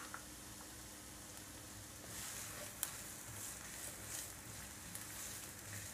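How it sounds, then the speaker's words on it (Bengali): Chopped onions fry in cooking oil in a pan, giving a soft, steady sizzle with faint crackles and occasional stirring clicks, heard alone and fairly quietly. "পেঁয়াজ কুচি আমি সামান্য একটু বাদামি করে ভেজে নিব"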